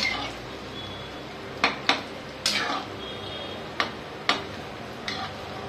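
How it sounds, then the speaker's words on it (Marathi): Bread frying in hot oil in a kadhai gives a steady hiss, broken by several sharp metallic clinks as the wok is shaken, close and moderately loud, with no talking. "बघा असं थोडं कढई हलवून घ्यायची, म्हणजे मग काय होतं की फुटत नाही"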